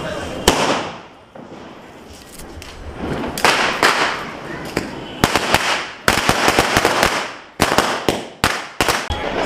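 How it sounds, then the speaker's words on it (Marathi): Strings of Diwali firecrackers burst in rapid succession, loud sharp bangs and thuds coming in clusters and irregular runs with brief gaps between, some near and some farther off. "मस्त बघा ना त्याचे काय फटाके चालू आहे मागे"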